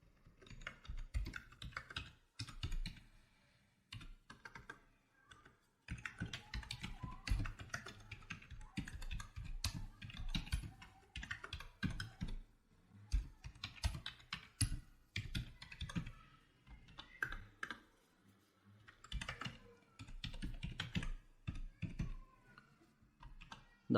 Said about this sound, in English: Let's type the body of this email.